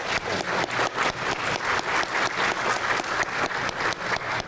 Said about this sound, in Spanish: Por favor, un aplauso